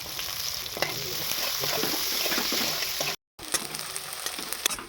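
Chopped onions and whole garlic cloves fry in hot oil in a karahi, a soft steady sizzle with occasional stirring clicks and a brief cut of silence near the end.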